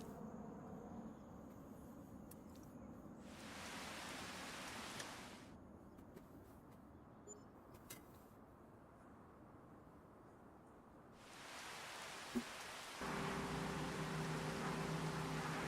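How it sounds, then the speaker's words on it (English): Rain and hail in a farming video game, heard as steady broadband hiss that swells in bursts, fades, then returns louder and denser toward the end with a faint hum underneath. "It's raining. That's not great. Actually, that's hail."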